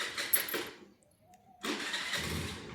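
A two-wheeler engine cranks and catches, a short close burst that rises into a steady running roar after a brief quiet gap, with no talk over it.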